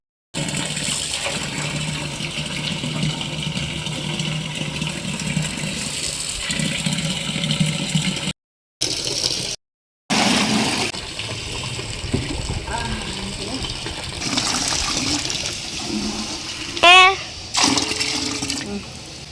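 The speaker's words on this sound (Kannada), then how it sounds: "ಈಗ ಮೊದಲು ನೀರು ಬಿಟ್ಟಿದ್ದೀನಿ" A tap runs steadily into a container of water to soak clay pots on a home balcony, a continuous gushing pour, with someone talking over and between the flow and a few brief gaps.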